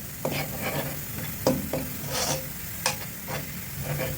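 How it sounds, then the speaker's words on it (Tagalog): Garlic sautéing in a pan for pancit canton guisado, a soft steady sizzle with occasional stirring scrapes of a utensil against the pan, fairly quiet and close. "igisa-gisa muna natin siya hanggang sa maging golden brown"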